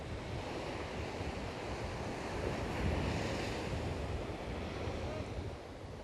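Ocean waves break on Om Beach in Karnataka, India: a steady, fairly quiet wash of surf mixed with wind rumbling across the microphone, no one speaking.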